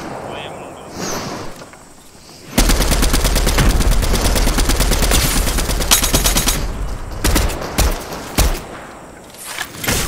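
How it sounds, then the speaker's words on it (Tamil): Dense automatic gunfire from the video game Fortnite erupts and sustains as loud, rapid bursts, then breaks into separate sharp shots; quieter voices and game sounds come before it. "அவங்க யாரையோ சுட்டுன்னு இருக்காங்க"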